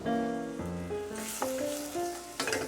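Celery, onions and chopped mushrooms sizzle in melted butter in a pan, a continuous close frying hiss with a few sharper crackles, under a steady musical backing.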